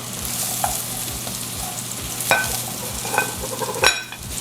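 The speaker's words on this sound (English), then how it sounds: "we're going to just add the mushrooms to this bacon grease" Mushrooms frying in bacon grease produce a loud, steady sizzle with a rhythmic low pulse, broken by a few sharp scrapes and clatters as they are stirred.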